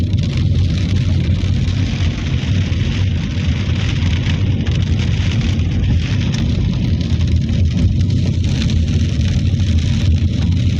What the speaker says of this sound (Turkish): Yumuşak yumuşak geliyor su damlaları. Kar gibi.